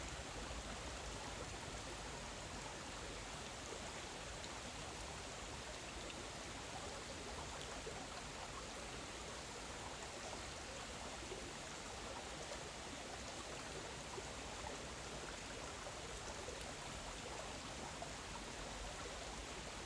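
Steady, close rush of creek water flowing over stones in woodland, a broad continuous wash that holds even for the whole stretch with no talk.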